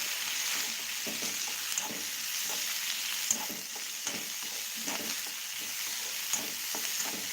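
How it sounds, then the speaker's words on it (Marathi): Sliced onions sizzle steadily in hot oil with garlic tempering as a spoon stirs them in a pan, the constant frying hiss broken by regular soft scraping strokes, close and alone. "आणि लगेच याला हलवून घ्यायचं"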